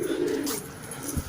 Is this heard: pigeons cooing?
yes